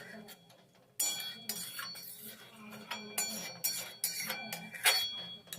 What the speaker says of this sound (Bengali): ফুলকপিগুলোকে খুব ভালো করে জলের সাথে নেড়েচেড়ে মিশিয়ে নিচ্ছি